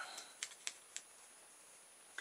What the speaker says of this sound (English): Cut it to the right length.